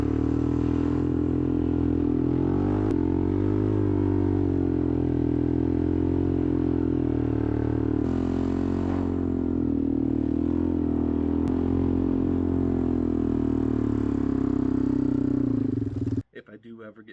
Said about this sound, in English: got to make sure it's really warmed up by doing some donuts in the driveway.